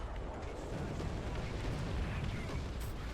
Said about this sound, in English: let's get off this artillery strike